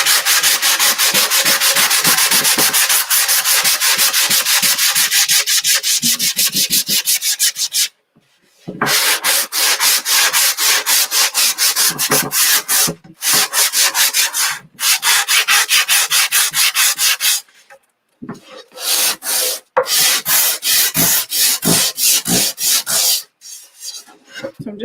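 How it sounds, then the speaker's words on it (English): Rapid back-and-forth sanding strokes rasp loudly against a wooden garden flag, rhythmic and close, stopping briefly several times before resuming. "I'm going to kind of do a little bit of sanding just to get my surface a little bit more smooth"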